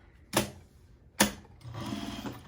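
Sewing machine stitching the side seam of a fingerless glove: two sharp mechanical thumps, then a steady close whirring run of stitches with no talk.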